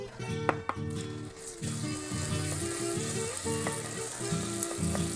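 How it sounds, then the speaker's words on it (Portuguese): Garlic sizzling in hot oil in a pan, a steady close fry with a few sharp ticks and a low pulsing hum underneath. "Então, gente, agora a gente vai afogar o alho."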